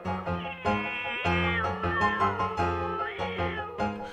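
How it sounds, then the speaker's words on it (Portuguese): Cats meow repeatedly while playfully fighting each other, a close run of rising and falling meows over a steady backing track. "Os gatos se divertiram lutando uns contra os outros."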